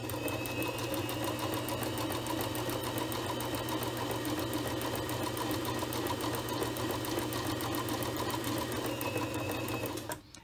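A sewing machine stitches a buttonhole in one continuous run of rapid, close, mechanical rattling at a steady pace, stopping abruptly at the end.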